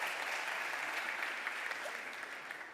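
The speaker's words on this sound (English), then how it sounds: "Can we give them a nice round of applause for joining us today?" A conference audience at a cybersecurity forum gives a steady round of applause, a dense, even clatter of many hands that holds throughout and tapers slightly toward the end.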